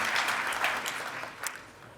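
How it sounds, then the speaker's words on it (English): An audience at a game design talk in Berlin claps briefly, a soft, fairly distant wash of applause that fades out after a couple of seconds. "More clapping."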